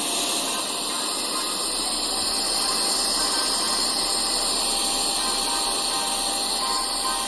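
A Vogma VMONSTER V7 electric air duster runs at its third power level, giving a steady, loud, high-pitched whine and rushing hiss that holds evenly throughout with no talking.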